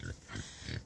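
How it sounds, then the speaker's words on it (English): Pigs grunt at feeding time, three short low grunts in quick succession, close by and fairly quiet. "So yeah, we're gonna go feed the pigs."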